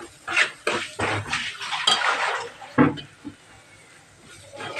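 A spoon scrapes and clinks against a pan while coriander powder, cumin powder and kitchen king masala are stirred and fried, with irregular close metallic knocks and scraping under a faint background hum.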